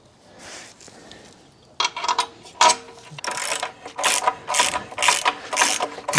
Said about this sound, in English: slowly work it in with the socket wrench